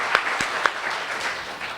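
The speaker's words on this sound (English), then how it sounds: "I want to give her a round of applause as well" At a welcome address, an audience offers a round of applause, with a few sharp individual claps over a soft, steady wash of clapping at moderate distance.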